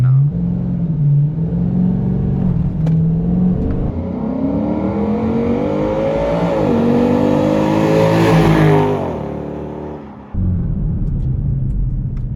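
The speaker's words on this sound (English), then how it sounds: "we're gonna go 2500 RPM again" A 2005–2009 Ford Mustang GT with a JLT Series 3 cold air intake launches from 2500 RPM, its V8 rising loudly through the revs, then a brief gap at the shift before the engine pulls again.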